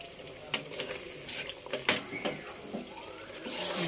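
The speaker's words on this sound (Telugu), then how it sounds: "ఇప్పుడు ఫ్రై చేసుకుందాం." Bommidailu fish frying in a pan, a soft steady hiss with occasional scrapes and clinks from stirring, fairly quiet throughout.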